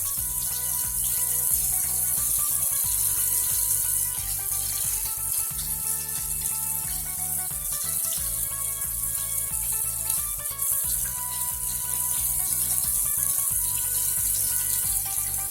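Water runs steadily from a tap into a sink during hand washing with soap, a continuous close gushing splash with faint clatter and no speech.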